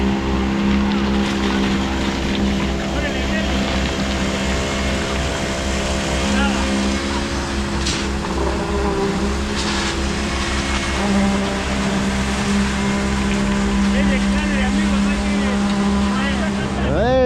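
A large concrete pump truck runs close by while pumping for an ice arena pour, its engine holding a steady loud hum with a rhythmic mechanical churn beneath, as someone talks over it.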